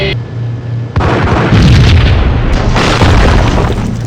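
A loud, close explosion in the 2001 video game Max Payne erupts into a heavy, sustained rumbling roar that holds for several seconds without speech.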